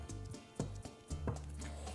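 A knife cutting through a block of cheddar cheese on a board makes a few soft, thudding chops, each distinct and close-up, in an otherwise quiet room.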